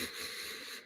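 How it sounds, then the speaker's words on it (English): One long, steady breath drawn in through the nose, a soft airy hiss lasting under a second, close and quiet, with no talking. "Now take a breath in."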